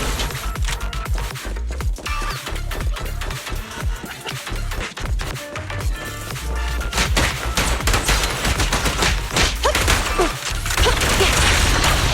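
Sustained automatic gunfire from the video game Zenless Zone Zero: dense, loud, continuous bursts with crashes and impacts layered throughout, building slightly toward the end with no pauses.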